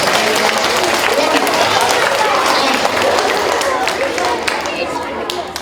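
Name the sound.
students applauding themselves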